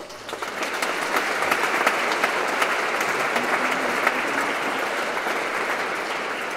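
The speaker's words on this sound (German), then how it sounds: "jetzt bitte nochmal einen heftigen Applaus, die Teilnehmenden der Werkstattgespräche" A hall audience applauds the participants of a workshop-discussion series at a cultural participation handover event, steady, dense clapping that swells in and holds evenly at close range, no voices.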